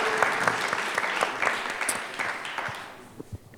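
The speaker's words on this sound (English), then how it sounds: "I want your help to applaud the Moroccan host" An audience at a youth and civil society panel of a North Africa summit applauds the Moroccan host, a dense burst of clapping that thins and fades toward the end.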